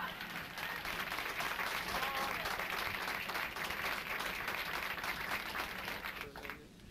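A concert audience at a live jazz performance applauds steadily and densely for several seconds, a broad wash of many hands clapping that thins out near the end.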